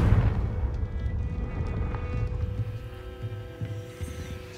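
A fiery Confringo spell blast from Hogwarts Legacy bursts loudly at the start, and a deep rumbling roar fades away over several seconds, with only a few fainter thuds afterward.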